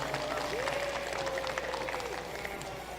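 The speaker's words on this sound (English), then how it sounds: "please give all the kids in here a big round of applause." Applause and cheering from a crowd in an indoor arena at an FFA livestock show, steady and diffuse, with a whistle-like tone and crowd murmur underneath.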